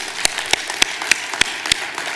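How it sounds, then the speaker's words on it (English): An awards-event audience applauds with a run of sharp, evenly spaced claps, about seven in two seconds, each distinct and fairly close over a light background wash. "Folks, can we give a big round of applause for Julianne Richardson?"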